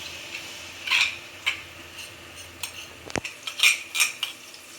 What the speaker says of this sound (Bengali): এখন নেড়ে চেড়ে দিব মশলাটা।